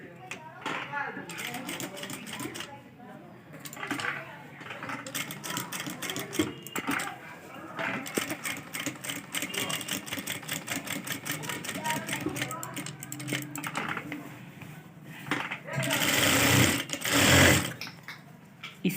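A sewing machine stitches around the curved neckline of a two-layer boat-neck dress or kurti, running in steady bursts with brief pauses, then a louder, denser run near the end.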